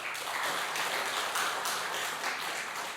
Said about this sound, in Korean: 우리 박수 한번 쳐드려요